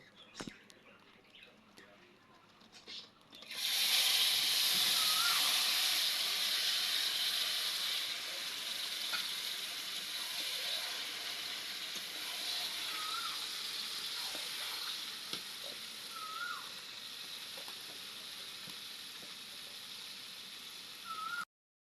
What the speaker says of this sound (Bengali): ম্যারিনেট করা মাংস এবার ঢেলে দিব।